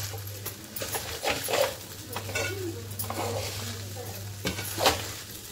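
Sabudana khichdi is mixed in a pan with repeated scraping stirs over a soft sizzle and a low steady hum, the utensil knocking the pan now and then.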